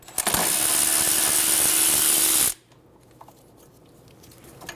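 A tool with a 12mm socket runs loudly and steadily for about two and a half seconds, removing the brake line bracket bolt near the front strut of a 2011-2014 Hyundai Sonata, then stops, leaving quiet workshop background.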